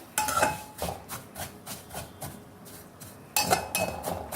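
Sindhi seviyan vermicelli being stirred and roasted in a pan with a utensil, giving repeated scraping and clinking strokes at a steady rhythm, close and moderately loud, with no voices.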